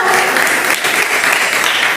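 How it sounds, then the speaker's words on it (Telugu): A church congregation claps loudly, a thick, steady roar of applause filling the room from start to finish. "అందరం గట్టిగా చప్పట్లు కొడదామా?"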